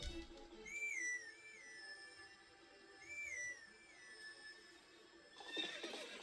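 The horse Epona neighs in the video game The Legend of Zelda: Twilight Princess, two clear whinnies with high rising and falling calls, separated by a brief gap, followed by a short burst of noise at the end.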